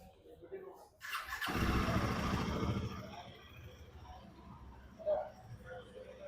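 A Royal Enfield Himalayan motorcycle starts with a sharp catch and settles into a loud idle with revving nearby, while people talk around it.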